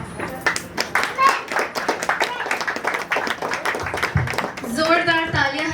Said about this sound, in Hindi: जोरदार तालियां हैं जय एलिशा के लिए